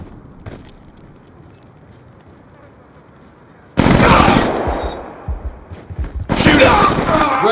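The Death Machine minigun in the Black Ops 2 video game fires in two long, loud, dense bursts of rapid gunfire. Quieter ambient game noise with brief voice lines comes before them.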